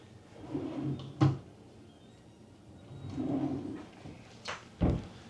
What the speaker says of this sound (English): Three good-sized drawers.